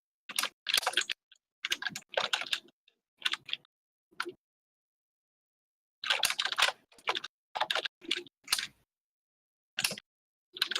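Clacky keyboard typing in short rapid bursts with pauses between them, crisp and close, with no voices over it.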